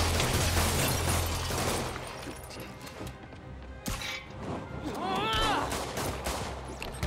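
Bursts of video-game gunfire from enemies in a Spider-Man game, dense rapid shots crackling loudly through the first seconds, easing off and then rising again amid other game effects, with a voice speaking over part of it.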